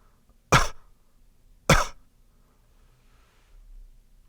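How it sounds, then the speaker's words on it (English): Two sharp outward coughs about a second apart, close and fairly loud, with near silence between and after. "where you would go outward on a regular cough"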